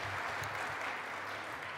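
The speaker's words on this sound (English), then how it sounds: "And I might expect some clapping on that." A university audience claps steadily throughout a campus address, a dense, continuous wash of applause with no pauses or voices.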